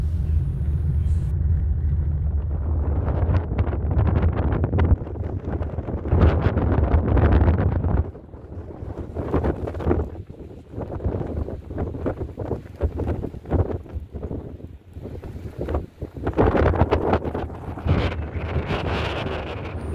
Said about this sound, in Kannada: ಅಲ್ಲಿ ತುಂಬ ಗಾಳಿ ಬೀಸ್ತಾ ಇತ್ತು. ಹಾಗೆ ನಾನು ವಿಡಿಯೋ ಮಾಡುವಾಗ ಹೇಳಿದ ನನ್ನ ಮಾತುಗಳು ರೆಕಾರ್ಡ್ ಆಗಲಿಲ್ಲ, ಬರೀ ಗಾಳಿಯ ಶಬ್ದವೇ ಬಂದಿದೆ ಅಷ್ಟೆ.